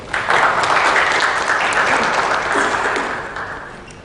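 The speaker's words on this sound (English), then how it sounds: "A big round of applause for you." A large audience at the inaugural session of a smart city conference applauds loudly and steadily, a dense roar of clapping that holds for about three seconds before gradually fading.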